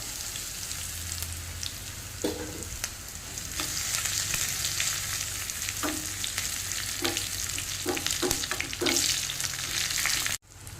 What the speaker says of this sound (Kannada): ಇಲ್ಲಿ ಎಣ್ಣೆ ಬಿಸಿ ಆಯಿತು ಬೆಳ್ಳುಳ್ಳಿಯನ್ನು ಹಾಕ್ತೇನೆ